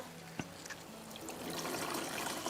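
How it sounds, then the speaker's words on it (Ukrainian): Water is poured into a container to top it up to five litres for a garden stone project, a soft click followed by a steady, close trickle and splash building louder. "І зараз доповнюємо водою до 5 літрів"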